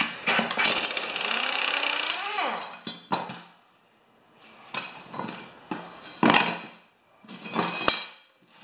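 Metal tool work removing the blade from a 1992 Briggs Wedgefield Classic lawn mower: a sustained harsh grinding rattle, then scattered clanks and ratcheting bursts with quiet gaps, close by.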